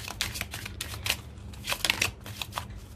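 Tarot cards being shuffled and drawn, a quiet, fast papery riffling that comes in several bursts with brief flicks between them, close up and heard alone with no talking.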